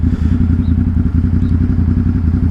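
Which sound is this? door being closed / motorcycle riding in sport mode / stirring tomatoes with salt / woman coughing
motorcycle riding in sport mode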